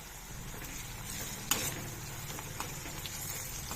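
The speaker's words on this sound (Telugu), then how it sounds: "టూ మినిట్స్ ఫ్రై చేసి అల్లం వేస్తున్నాను, వెల్లిపాయ, పచ్చిమిర్చి ముక్కలు." Ginger, garlic and green chilli pieces fry in a pan with a steady, soft sizzle and an occasional stir or clink, faint and without talk.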